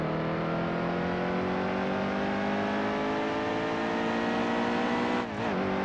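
Race car engine in NASCAR Heat 2, Xfinity Series, climbing steadily through the gears as it accelerates, a loud continuous rising whine with a brief dip near the end as a gear shifts.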